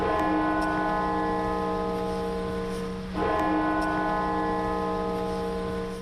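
Church bells toll at Washington's National Cathedral, a sustained ringing hum of overtones with a second bell strike partway through, loud and resonant with no talking over it.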